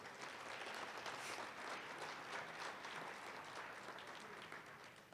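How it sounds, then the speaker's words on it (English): Audience applause at a high school athletic hall of fame ceremony honoring the caterers, a steady sustained crowd clapping that fills the room evenly throughout before slowly tapering near the end. "Let's give them a round of applause."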